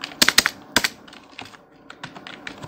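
Rapid, uneven keystrokes on a computer keyboard while entering CSS styling code for a Bootstrap web page, a few loud clustered clacks early, then lighter scattered taps, close and alone.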